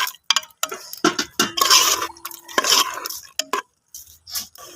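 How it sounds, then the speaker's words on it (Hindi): Green chillies, onions and tomatoes being sautéed with meat in a pan for shimla mirch gosht: a spoon scrapes and stirs in bursts, with clinks against the pan and a light sizzle between strokes, close by. "बस इसको भी हम थोड़ा सौते कर लेंगे।"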